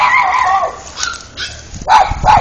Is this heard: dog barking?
yes